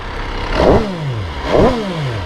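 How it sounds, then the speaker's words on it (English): A 2022 MV Agusta F3 800RR sportbike engine revs twice, each blip rising sharply then falling away, loud and close. "Hear the difference in the sound of the motor."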